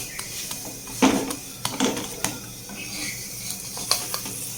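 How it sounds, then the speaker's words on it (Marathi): A methi paratha roasts on its second side in a hot pan, with a soft steady sizzle broken by several clinks and scrapes of a spatula and utensils, and no talking. "याला आता भाजून घेऊया दुसऱ्या साईडने"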